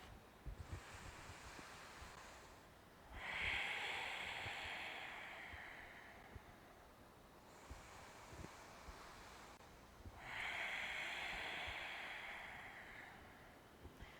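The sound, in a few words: slow deep breathing exercise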